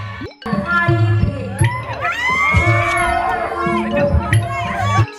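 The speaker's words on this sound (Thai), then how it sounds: "เสียงปรบมือมอบให้ครับ" A lively crowd at a Thai likay folk-theatre performance claps and cheers, with shouts, whoops and excited voices rising over the noise throughout.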